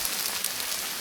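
Rain patters steadily on a tarp over a campsite, a dense hiss of close drops with no voices.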